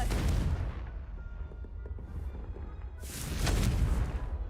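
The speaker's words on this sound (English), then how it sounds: "Can we light this on fire? Confringo." A fire spell cast in the video game Hogwarts Legacy lets out a deep, rumbling burst that fades over a couple of seconds, followed by a second loud, roaring blast, heavy in the low end and without talk.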